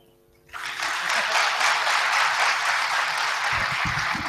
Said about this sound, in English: If you're feeling good, then just clap.